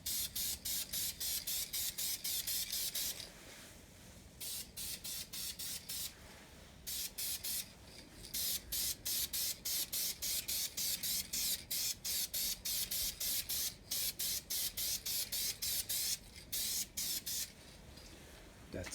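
Spray can applying a thin coat of paint to N scale model railway parts, repeated close, loud hissing bursts with short gaps between them.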